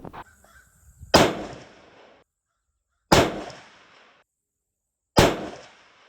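Three loud, sharp rifle shots from a Ruger American being sighted in, spaced about two seconds apart, each with a quick decaying echo, and otherwise quiet between.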